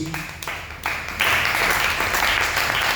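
Congregation applauding during a church service, a dense continuous clapping that swells and grows louder partway through and holds steady, heard up close and filling the room.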